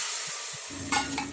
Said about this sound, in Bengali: ডিমের অমলেট তৈরি হচ্ছে।